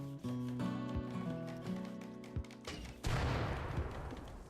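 Bursts of video-game gunfire from the colony game Rimworld, including an incendiary launcher, crackle and clatter in a rapid rush that swells loudly toward the end over a tonal in-game backdrop.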